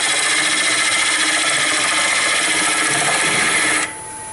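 A lathe hollows out a wooden water dipper, the cut making a loud, continuous rasping whir with a faint pulse on each revolution, then cutting off sharply near the end to leave a quiet hum.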